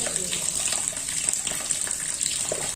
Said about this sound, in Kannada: ಈಗ ಮತ್ತೆ ಅದರೊಳಗೆ ನೀರು ಹಾಕೊಳ್ತಾ ಇದ್ದೀನಿ